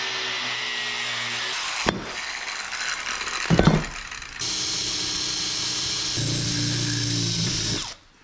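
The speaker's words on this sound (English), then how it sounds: "You'll see where the cutoff wheel has to be flat, and the nut here forces me a bit low, so I'm nicking the cabin top." A cutoff wheel bites into the fiberglass cabin top of a wooden boat under restoration, giving loud, sustained grinding bursts broken by brief pauses and a few sharp clunks.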